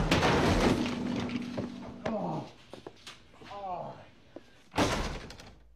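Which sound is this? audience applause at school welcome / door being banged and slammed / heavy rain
door being banged and slammed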